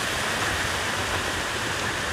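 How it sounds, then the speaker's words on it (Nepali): Clean water rushing steadily over the fourth dam of the Khardu project near Dharan, a dense, continuous roar like a small waterfall, close and unbroken with no voices. "पानी गजबले बगिरहेछ, सफा पानी"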